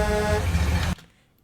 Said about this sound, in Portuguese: Esse som desse carro aqui é VFX